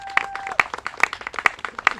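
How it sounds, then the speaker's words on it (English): An audience claps during a Senate Democrats event on immigration enforcement with DACA recipients, giving a short burst of distinct, sharp claps in a loose rhythm and fairly close to the listener. "She deserves a round of applause."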